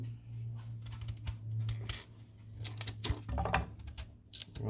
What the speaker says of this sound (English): first we're gonna just cut and peel the sweet potatoes